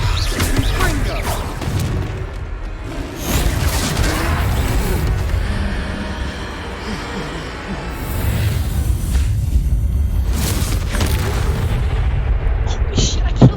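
Confringo fire-spell blasts in the Hogwarts Legacy video game come as a dense stretch of loud, booming explosions and crashes, with rumbling combat noise and a voice speaking over it.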